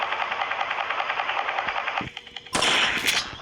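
Rapid automatic gunshots ring out in Granny Chapter 2, a fast, loud rattling burst, a brief pause, then a harsher, brighter blast of fire.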